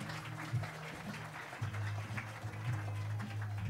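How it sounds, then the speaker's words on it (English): Audience applause at a startup talk show event fills the room as a steady patter of clapping, moderately loud and continuous, with a low hum and bits of voice underneath. "You keep the applause going for them"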